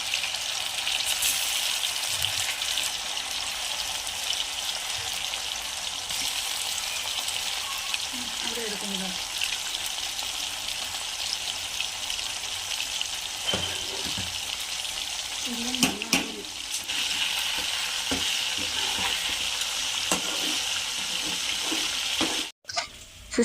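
Marinated chicken 65 pieces fry in hot oil in a pan, producing a constant close, hissing sizzle that runs throughout, with occasional faint clatters and brief stirring noises.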